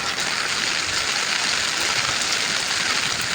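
Heavy rain pours down steadily, a dense, loud, unbroken hiss with no talk over it.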